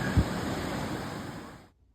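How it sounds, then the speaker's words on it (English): A waterfall rushes as a steady broadband roar in the background, with a brief bump near the start, before the sound cuts out abruptly at the end. "yes, that is a waterfall in the background"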